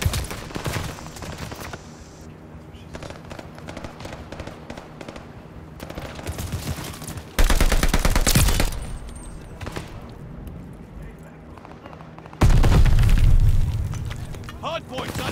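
Heavy gunfire and explosions rage at a hardpoint in the WWII shooter Call of Duty: Vanguard, with dense rattling bursts, two loud booming blasts, and a game announcer's voice breaking through in places.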